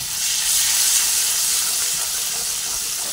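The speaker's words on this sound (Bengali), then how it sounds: "সব দিয়ে মশলাটা একটু ভেজে নিচ্ছি।" Spice paste with Kashmiri chilli powder and ginger fries in a pan, giving a steady, loud sizzle and hiss that carries on without a break for a few seconds, with no talking.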